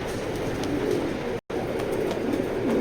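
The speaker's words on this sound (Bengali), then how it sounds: "প্রত্যেকটাই ভাই কড়া ডাকের কবুতর, অনেক ডাকে।" A male red checker racing pigeon in a loft coos repeatedly, soft low rolling calls close by over a steady background hum, with a brief silent gap midway.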